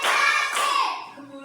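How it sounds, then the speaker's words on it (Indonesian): A group of children clap their hands together in a classroom, a dense burst of overlapping claps that fades out after about a second, with faint voices beneath. "Oke, tepuk tangan."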